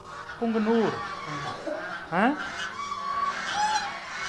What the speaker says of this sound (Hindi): देखिए बत्तखें कितना चिल्ला रही हैं।